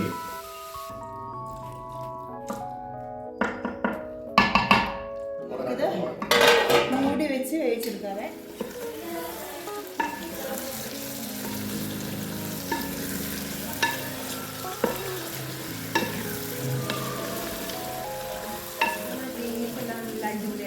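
Beef being dry-fried in a pan and stirred repeatedly with a metal utensil, giving scraping clinks against the pan over a steady sizzle in a home kitchen; a voice murmurs faintly at times.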